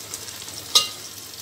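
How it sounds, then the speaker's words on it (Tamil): Shrimp frying in a pan gives a faint, steady sizzle, with a single sharp scrape of stirring about midway through the short moment. "அதுக்கப்புறம் இந்த எறாவை போடுங்க."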